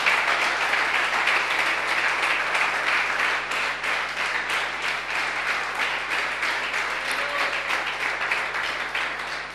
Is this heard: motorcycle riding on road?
no